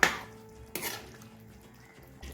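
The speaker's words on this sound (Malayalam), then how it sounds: "ഒന്ന് മിക്സ് ചെയ്ത് കൊടുക്കാം" A spoon stirs chicken curry in a pan, with a sharp metallic scrape at the start, another clatter partway through and a final knock, separated by quiet, soft movement and no talking.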